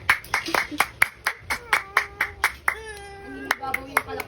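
Sharp, distinct hand claps at a first birthday party, a dozen or so in a loose rhythm, close by, while adults and someone talk and sing alongside.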